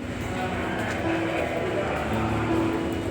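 Metro train rumbling through Shobhabazar station, a steady loud roar of rail noise with a few whining tones, heard throughout.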